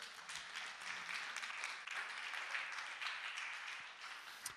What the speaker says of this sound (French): On peut l'applaudir, bravo.